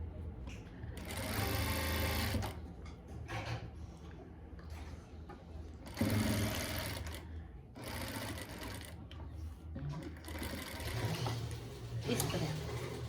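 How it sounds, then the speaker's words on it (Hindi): Sewing machine running in bursts while stitching a dress, its rapid mechanical whir starting and stopping several times, fairly close and steady through each run, with no talking. "हम ऊपर की साइड से इसको फिर से सिलाई लगा देंगे।"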